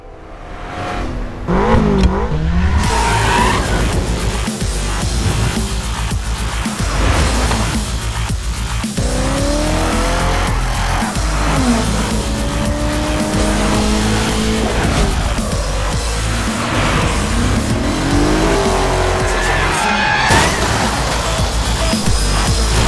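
A race car drifting in Forza Horizon, engine revving hard and shifting while tires squeal in repeated long wails through corners, loud and continuous over about twenty seconds.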